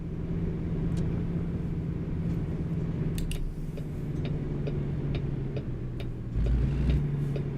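An older-style Kenworth W900 truck drives in American Truck Simulator, its engine a steady low droning rumble beneath a regular ticking indicator, swelling slightly near the end.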